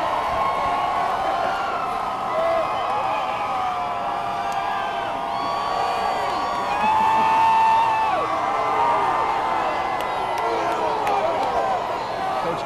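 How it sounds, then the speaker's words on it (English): Crowd at a basketball game cheering and whooping in a large arena, a continuous roar of many voices swelling slightly midway, with a few whistles and shouts rising above the din. "Let's listen to the crowd for just a second."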